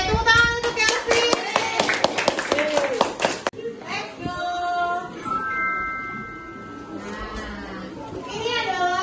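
A classroom of children claps together for a classmate in a quick burst of applause lasting about three seconds, followed by children's voices and chatter afterward.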